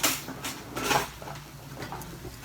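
Metal kitchen utensils clatter and clink as a whisk is pulled from a drawer or crock beside a saucepan heating on the stove, a few close, scattered rattles that fade into quieter handling.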